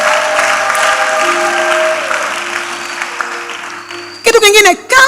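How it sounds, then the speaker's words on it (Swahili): A church congregation at a Sunday service breaks into loud, sustained applause for several seconds, which then fades as a voice starts talking close to the microphone. "Mpigie Mungu makofi kabisa."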